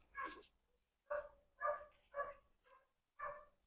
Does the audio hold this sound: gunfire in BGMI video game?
no